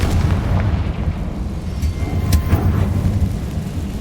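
A Confringo fire spell explodes in the Hogwarts Legacy video game, a loud, rumbling blast with a heavy low roar that holds steady for several seconds and stays near, with no speech.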